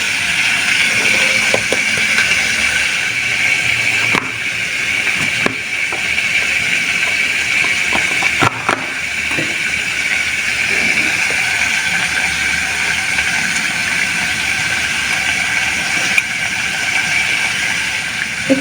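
An electric grinder whirs steadily as it blends onion, garlic and ginger into a paste, a loud continuous motor drone with a few brief clicks and knocks from the jar, and no talking.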